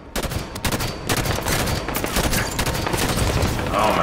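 Dense automatic gunfire in Halo 5 Big Team Battle, with rapid, loud, overlapping shots that continue without a break.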